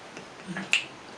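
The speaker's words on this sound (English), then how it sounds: "When you finger snap like this" A single sharp finger snap, crisp and close, preceded by a faint rustle and set against near silence.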